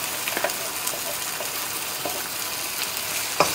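Green paste of ground coriander and chili with coriander leaves frying in a pan for a masoor dal curry, giving a steady soft sizzle with a few faint stirring clicks, close and continuous.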